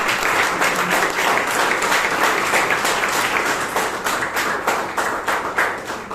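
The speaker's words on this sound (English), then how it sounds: "So please give our Toastmaster Taran a huge round of applause." Enthusiastic applause from the audience at a Toastmasters meeting in Bangalore, dense clapping that stays loud and steady before gradually thinning toward the end.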